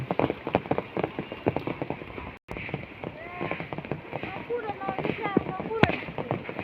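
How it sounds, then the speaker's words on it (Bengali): Rain falls on a village courtyard flooded with water, giving a steady patter with scattered splashy drops. Several short bursts of close speech sit over it, and the sound drops out briefly midway. "বৃষ্টির কারণে বাড়িতে উঠানে সব জল হয়ে গেছে"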